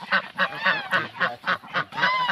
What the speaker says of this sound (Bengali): হাঁসগুলো তো সমস্ত বড় বড় হাঁস।